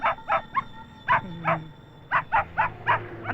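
A puppy gives a string of about ten short, high yaps in uneven bursts, close by, with a faint low hum underneath.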